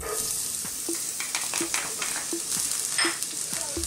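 Garlic sizzling in hot cooking oil in a frying pan, a steady crackling fry with light stirring scrapes ticking at a regular pace, close and moderately loud.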